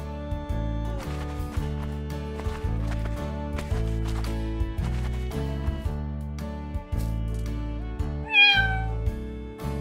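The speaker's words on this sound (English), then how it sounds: "Cat." A cat meows in a short rising call near the end, heard over steady children's background music with a bouncing beat.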